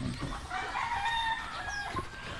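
A rooster crowing in a rural yard, with clucking hens around it, fairly close and continuous throughout.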